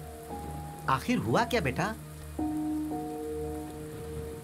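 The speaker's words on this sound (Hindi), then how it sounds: "इतनी बारिश हो रही है" Heavy rain falls steadily through a dramatic scene in the Tenali Rama movie, a constant wash under a brief spoken question and sustained music tones.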